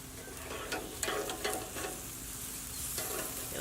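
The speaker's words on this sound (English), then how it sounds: "You can hear that nice sizzle." Seasoned chicken pieces sizzle on a grill, a soft continuous frying hiss with a few faint pops and crackles, fairly quiet and steady throughout.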